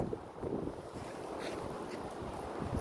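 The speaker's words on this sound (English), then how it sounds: "Sort of big wind gust." A strong wind gust during a windstorm in Ronkonkoma, New York, rumbles and buffets the microphone in uneven, blustery surges, fairly quiet overall and without any voices.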